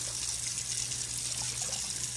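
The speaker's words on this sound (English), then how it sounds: "and then you pour that rice water off. You see? Pour that off." Rice water poured off cooked rice for a Caribbean stew dinner, a steady close gush of liquid running without a break and with no voices.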